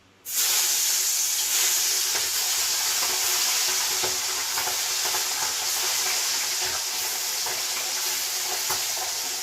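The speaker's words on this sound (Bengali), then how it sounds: "এবার এক এক করে ভেজে নেব" Constant loud sizzling of small puti fish, coated in salt and turmeric, frying in hot oil, a steady hissing crackle with occasional pops, starting abruptly and continuing without speech.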